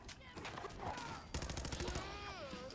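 Automatic weapon fire in Fallout 4, with rapid repeated shots in bursts, loudest in a dense volley midway, mixed with other game sounds and some talking.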